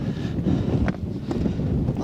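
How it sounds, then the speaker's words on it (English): Gusting wind buffets the microphone on a hillside path below the Old Man of Coniston in the Lake District, a steady low rumble with brief swells and no talk. "And that wind's picking up."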